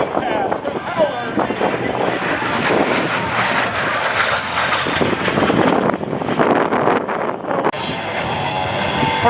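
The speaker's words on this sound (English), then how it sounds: "watch as all 4 jets fly to all 4 corners of this sterile aerobatic box" Jet engines roar past at an airshow as a four-jet L-39 aerobatic team works the display box, a loud, sustained rushing whine with wind buffeting the microphone.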